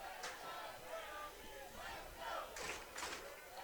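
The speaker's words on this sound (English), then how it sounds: "Crowd coming alive now." A baseball stadium crowd cheers in the 8th inning of a Crabs game. The steady, distant roar stays faint and swells in a few brief surges.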